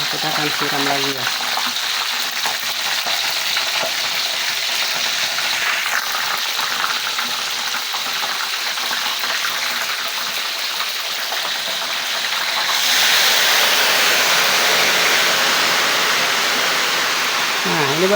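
Batter for crispy tofu is poured over hot frying oil, giving a loud, continuous hissing sizzle that runs throughout and grows noticeably stronger partway through, with bubbling crackle beneath it.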